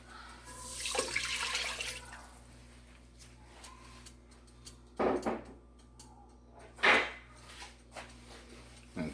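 Water poured into a pot that already holds butter, sitting on a stove over medium heat while making choux pastry. It comes as a few short splashy pours amid faint kitchen background.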